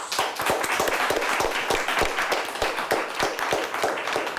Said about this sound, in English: Let's give the Oilers a nice round of applause.